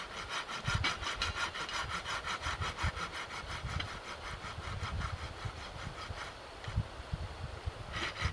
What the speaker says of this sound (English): I'm going to put a couple of notches in it to make it easier to cut.